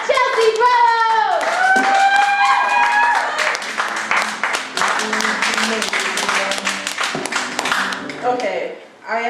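An open mic poetry slam audience claps and cheers for a poet taking the mic, a loud burst of whooping voices opening into steady dense clapping that carries on for several seconds before tapering off.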